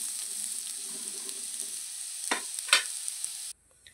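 Potatoes fry in hot oil while being cooked village-style, giving a steady bright sizzling hiss with a few scraping stirs near the end before the sound cuts off abruptly.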